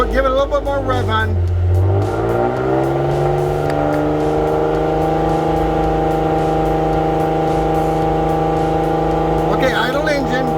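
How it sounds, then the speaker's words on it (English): A car engine is revved and held at a raised, steady speed during a charging and alternator output check on a car with a no-start problem, droning loudly and continuously up close while voices talk over it. "give it a little bit more rev on."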